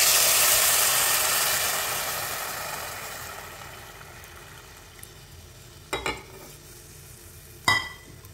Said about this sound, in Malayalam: ഇനി നമുക്കിതിലോട്ട് നമ്മുടെ തിളച്ചിട്ടുള്ള പാലൊഴിച്ചു കൊടുക്കാവേ